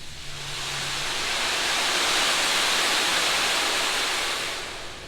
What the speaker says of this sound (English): And inside of this ocean drum are thousands of little tiny beads or little tiny balls.